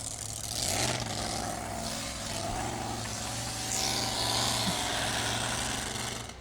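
A 2WD outlaw pulling truck named Thumper at a Friday night pull in Wisner, Nebraska, its engine thundering loud and steady close by, with a rev that rises early and a sustained roar throughout.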